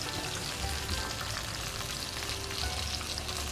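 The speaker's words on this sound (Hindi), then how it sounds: "अब बाकी भी हम इसी तरह से सारे फ्राई कर लेते हैं।" Crispy chicken bites deep-fry in hot oil, giving a dense, even sizzle and crackle close up that runs without a break and with no talk.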